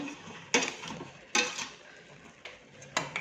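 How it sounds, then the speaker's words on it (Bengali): Cooking rice stirred in a pot with a spoon, four separate scraping, clattering strokes close by with quiet pauses between them and no talk. "এই যে ভাতটা আমি একটু নেড়ে দিয়ে যাই"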